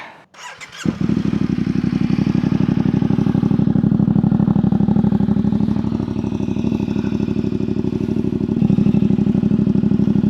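Motorcycle 450MT engine cranks briefly, catches and settles into a loud, steady idle with a rapid throbbing exhaust pulse and slight mechanical clatter, close to the bike and sustained throughout.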